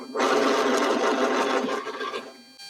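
A sewing machine runs a steady top-stitching seam along a summer dress for about two seconds, close and loud, then slows and stops alone.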